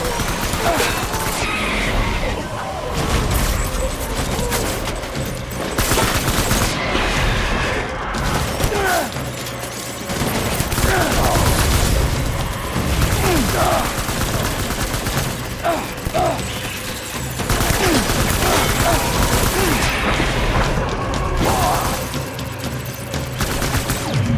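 Gunfire during a firefight in the video game Death Stranding, with sustained bursts and volleys of shots, crashes and booms filling the whole stretch, loud and continuous, with voices faintly underneath.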